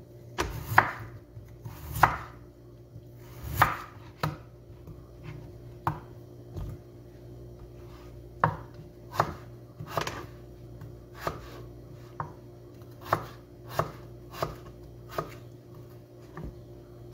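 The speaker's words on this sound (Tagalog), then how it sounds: "Slicing na to." A knife slicing and cubing vegetables on a cutting board for a rice and vegetable cream dish, with roughly fifteen crisp chops in an uneven, steady rhythm, close and clear, no voices.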